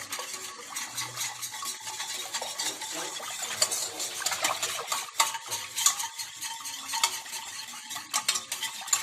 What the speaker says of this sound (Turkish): Salçayla su karıştırdıktan sonra bunu beklemeye alıyoruz.